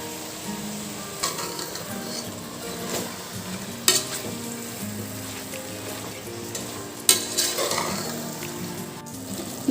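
Mushrooms frying in a masala with mint and coriander leaves, a steady close sizzle broken by scraping stirs and occasional sharp clinks of a utensil against the pan, with no voices.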